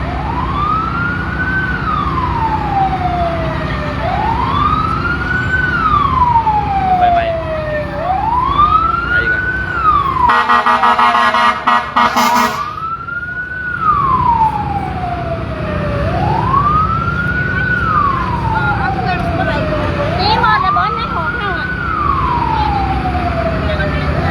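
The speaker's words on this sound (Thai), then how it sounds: "รถดับเพลิงน่าจะมาอีก" A fire engine siren wails in repeated rising-and-falling sweeps over city traffic noise in Vientiane, Laos, during a fire, briefly interrupted by a loud blaring horn midway, fairly loud and close.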